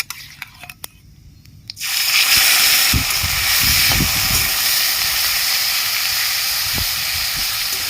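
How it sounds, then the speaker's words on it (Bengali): Ground banana flower paste hits hot oil already tempered with nigella seeds and a dried chilli, bursting into a loud, steady sizzle after a quiet start and hissing on without a break. "কালো জিরে ফোড়ন দিয়ে দিচ্ছি একটা শুকনো লঙ্কা বেটে রাখা মোচা দিয়ে দিচ্ছি তেলের মধ্যে"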